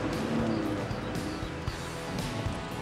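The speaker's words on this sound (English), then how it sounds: "one last thing about the hopelessly underpowered engine. It sounds horrible." Hopelessly underpowered engine of a 1999 Fiat Seicento small city car, droning steadily with a rough, thin buzz inside the cabin, continuous and fairly close, with no talk.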